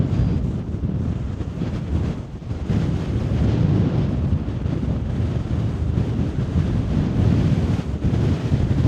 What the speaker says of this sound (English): So it's blowing an absolute hoolie.